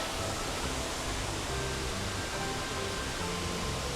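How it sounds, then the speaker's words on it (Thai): A waterfall in a Thai forest gives a steady, dense rush of falling water, faint and unbroken throughout, with no talk. "มันมีน้ำตกอยู่ตรงนั้นอ่ะ"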